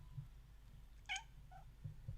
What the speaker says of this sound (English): Yes, you are indeed a cat.